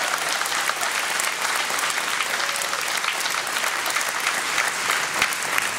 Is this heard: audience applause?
yes